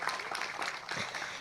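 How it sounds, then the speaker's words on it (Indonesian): Applause from a gathered audience at a community event in Panggungharjo, faint and distant, a brief patter of scattered claps. "Tepuk tangan untuk beliau yang luar biasa"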